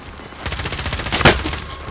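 Call of Duty Warzone gunfire: a fast automatic burst of rapid, evenly spaced shots with one louder crack near the end.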